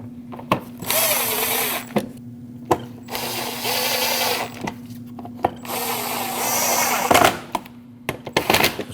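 A power drill drives a 10mm screw into a front license plate bracket on a 2014-2023 Jeep Cherokee, several short whirring bursts with brief pauses and ratcheting clicks, loud and close, no talking.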